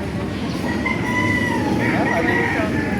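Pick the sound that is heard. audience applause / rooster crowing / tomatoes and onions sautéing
rooster crowing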